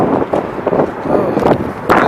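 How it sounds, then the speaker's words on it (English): Wind buffeting a microphone in gusty low rumbles, with bursts of a voice speaking in between. "It's also kind of windy down here, so hopefully it's not making too much noise on the mic."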